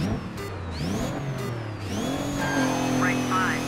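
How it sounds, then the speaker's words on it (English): A Mitsubishi Racing Lancer rally car with a 260 bhp diesel engine revving through gear changes in the DiRT 3 racing game, the engine pitch climbing and dropping repeatedly while a voice talks over it. "Its diesel engine puts 260 brake horsepower through its Lancer-based chassis."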